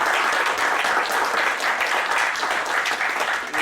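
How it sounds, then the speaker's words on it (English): A gala audience claps and cheers in a dense, steady wash of applause that holds throughout, with no speech over it. "let's give them a round of applause"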